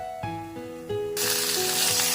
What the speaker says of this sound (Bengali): টমেটোটা দিয়ে এর মধ্যে একটু ভেজে নেব